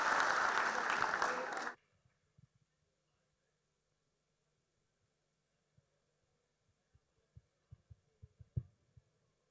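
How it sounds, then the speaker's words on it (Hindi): An audience at an academy's foundation-day cultural program claps for a first-time singer in a loud, dense burst lasting under two seconds, then stops abruptly, leaving near silence with scattered faint taps and knocks. "तो एक बार तालियां बजाकर उसका हौसला बढ़ा दीजिए।"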